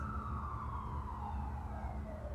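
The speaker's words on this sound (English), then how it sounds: "Trying to wait for the police to pass. Ambulance." An ambulance siren wails nearby with its pitch sweeping downward as it passes, over a low rumble of traffic.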